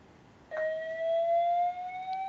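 A building fire alarm at a hackathon event switches on abruptly, a loud, steady electronic tone that rises slowly in pitch and holds on without pause.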